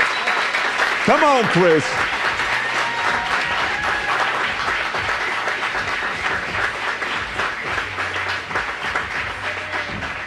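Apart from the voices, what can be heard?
studio audience applause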